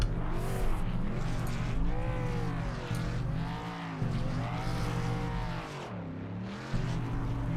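Race cars in the iRacing video game at Talladega Superspeedway doing burnouts after the finish: loud, continuous engine revving with rising and falling pitch sweeps and tire squeal, alone without speech.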